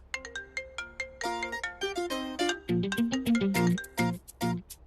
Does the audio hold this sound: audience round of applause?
no